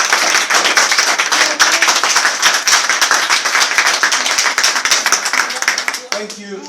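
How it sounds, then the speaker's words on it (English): Audience at a business bootcamp panel gives sustained applause, dense steady clapping that fades out at the end as a voice begins. "Let's clap hands."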